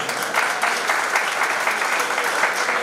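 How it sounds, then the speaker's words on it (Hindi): A hall full of people at a community society's annual general meeting breaks into loud, sustained applause, dense clapping from many hands running evenly throughout. "जोरदार तालियां बजाएं।"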